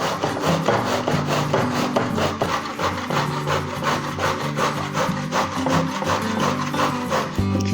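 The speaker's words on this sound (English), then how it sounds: "so just grate them both down" Courgettes grated on the coarse side of a box grater, a steady rhythmic rasping scrape of repeated strokes, close and fairly loud with no talk.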